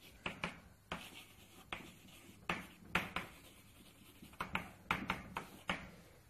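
Chalk writes on a board during a mathematics lecture in a quiet room, with a string of distinct taps and short scratching strokes in uneven rhythm, close but faint.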